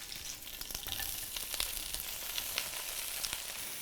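Quartered red onions and leeks frying in olive oil, a steady close sizzle with crackling pops throughout, no voices.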